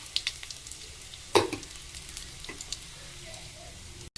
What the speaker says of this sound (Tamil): இப்போ வெங்காயம் அரிஞ்சு வச்ச வெங்காயத்தை போட்டு வதக்கணும்